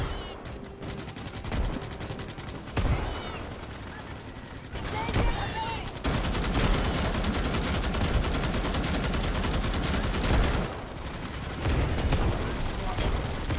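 Starship Troopers combat fills the scene with explosions and rapid gunfire, rumbling and crackling near and loud. A dense roar takes over midway while excited voices talk through the chaos.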